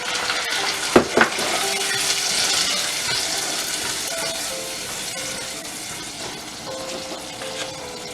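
Tomatoes sizzle in an oil-filled pan for chole, a steady frying hiss that runs throughout, with a couple of sharp stirring clinks near the start.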